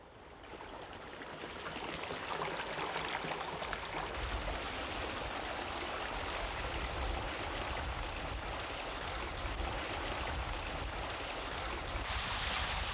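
Ten thousand litres of water pour steadily into the stone inlet channel of Anapji, a Silla-era palace pond in Gyeongju, a continuous broad rushing flow with no voices.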